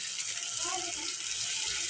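A small child splashes and plays in water, a steady hiss of running, sloshing water close by with a voice murmuring faintly underneath.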